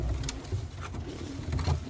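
Nuremberg pouter pigeons shuffle and make soft, low cooing sounds at close range, with light pattering and rustling.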